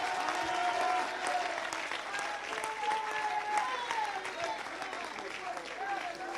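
A church crusade congregation in Portsmouth claps together, a fairly faint, rhythmic patter of many hands that carries on under a preacher's voice and background music.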